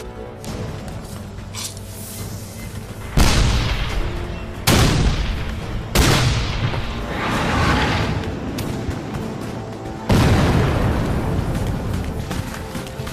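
Smoothbore artillery at Gettysburg in 1863, a gunpowder charge firing a 12-pound solid iron cannonball: four heavy booming blasts in sequence, each with a rolling decay, over constant battle rumble.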